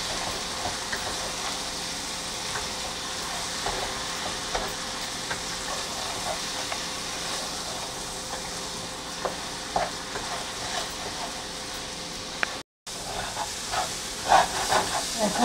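Bhuna khichuri sautéed with salt and spices, a long steady hiss of frying with repeated stirring scrapes, a brief dropout near the end, then more clinking.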